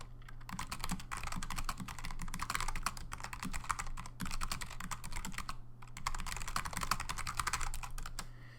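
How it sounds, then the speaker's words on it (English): Typing on a computer keyboard: brisk, steady runs of soft key clicks at close range, with a short pause midway and a low hum underneath. "So let me type that in."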